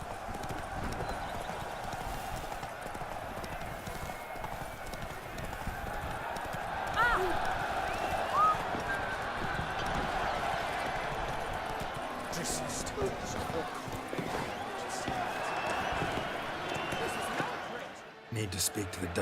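A horse gallops in The Witcher 3, its hooves beating a fast, steady clip-clop rhythm for the whole stretch, with game background sounds and a brief neigh near the middle.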